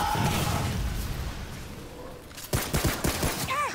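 Gunfire from a shooter battle in the video game Remnant: From the Ashes, a rapid burst of several sharp shots in the latter half, following a quieter stretch of game noise.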